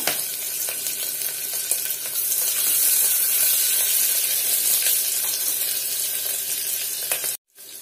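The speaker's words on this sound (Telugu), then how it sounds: "ఇప్పుడు మనం తాలింపు వేసుకుందాము. కొన్ని పచ్చిమిరపకాయలు వేసుకోండి." Steady, loud sizzling of chillies frying in hot oil, a dense crackling hiss that runs continuously before cutting off abruptly at the end.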